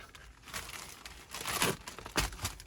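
Protective plastic wrapping crinkles and tears as it is peeled off inside a new 2020 Mercedes-Benz E300 hybrid sedan, with several close, crisp bursts of rustling and no speech.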